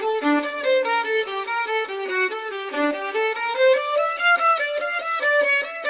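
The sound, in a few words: AI violin performance played from keyboard controller, ACE Studio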